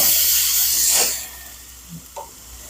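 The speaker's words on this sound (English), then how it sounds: "And there's the fire." Beef ribs on a grill over open fire give a loud hissing sizzle that fades after about a second, followed by faint pops and crackles.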